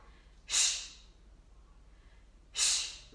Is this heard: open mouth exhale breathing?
yes